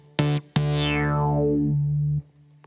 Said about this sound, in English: It's actually called a classic funk synth bass.